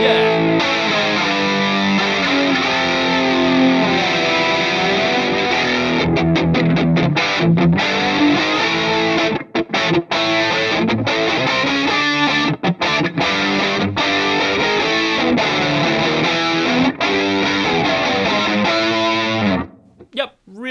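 Electric guitar played through the Bias FX 2 Orange Farm preset, a gritty distorted rock tone with some flanger modulation, sustained riffs and chords ringing loud and continuous with brief gaps before cutting off at the end.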